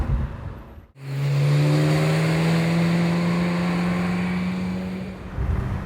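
A Ferrari F355 Spider's engine pulls hard while driving with the top down, a loud steady rising drone with strong harmonics after a brief dip, holding high for several seconds before easing off.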